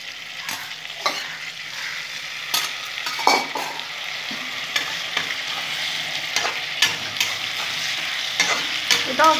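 Boiled beans fried with onion and garlic in a pan, a steady close sizzle broken by repeated scraping stir strokes throughout, with no voices.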